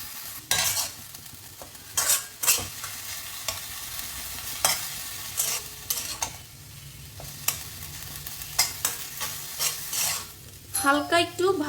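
Onion and chicken frying for a creamy chicken tart, with a utensil stirring and scraping the pan in repeated bursts over a steady sizzle. No one speaks.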